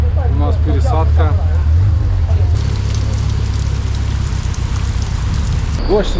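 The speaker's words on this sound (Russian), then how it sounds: "Дождь лупит конкретный" Heavy rain pounding down in Brazil, a dense, loud, steady hiss of drops on surfaces, with people speaking briefly at the start and again at the end.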